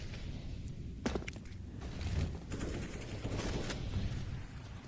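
CZ pistol gunfire in a CS:GO match, rapid sharp shots in quick bursts over a busy backdrop of footsteps and in-game clatter, moderately near.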